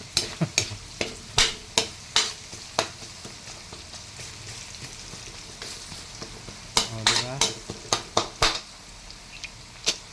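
Bagoong shrimp paste sautéed in a pan, heard as a low frying sizzle beneath a series of sharp, repeated clacks of a utensil against the pan, coming in bursts, some close together.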